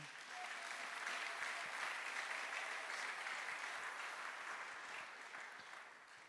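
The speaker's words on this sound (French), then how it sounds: "On va encore bien acclamer le Seigneur." A church congregation applauding together, a sustained, even wash of clapping from many hands at moderate distance that fades slightly toward the end.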